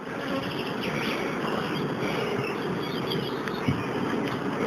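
Honeybees at an apiary swarm around an unpainted wooden hive, a dense, continuous buzzing hum close to the microphone, steady throughout with no voices.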